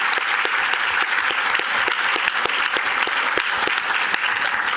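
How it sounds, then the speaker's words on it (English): Steady audience applause for a panel at a funding-options power lunch event, a dense even wash of clapping holding at a constant level throughout, with no talk over it. "So let's give our panel a big round of applause."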